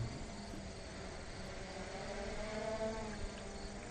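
An MJX Bugs 3 quadcopter drone hovers steadily with an even, buzzing whine from its motors and propellers. The sound is constant and moderately distant, with no talking.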